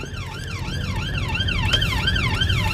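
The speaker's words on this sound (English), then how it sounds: "it's an ambulance, love. Yeah, she just passed by the ambulance." An ambulance siren wails in a fast, rising-and-falling pattern, loud and close, over a low rumble of road traffic as it passes.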